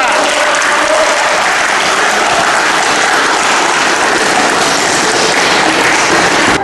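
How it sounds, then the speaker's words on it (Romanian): Sustained applause from an audience honoring an athlete who won silver at the Sambo World Cup in Novi Sad, Serbia; dense, steady clapping fills the whole stretch, loud and continuous without pauses. "aplaudisment pentru Ruslan"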